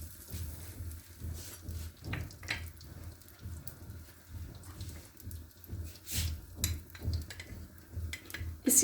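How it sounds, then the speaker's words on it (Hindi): Cumin seeds hiss and crackle in hot oil in a frying pan, a close, irregular sizzle with small pops and occasional clinks, heard alone without talk. "इसके अंदर हम थोड़ा सा ऑयल लेंगे, इसी में हम ज़ीरा डालेंगे।"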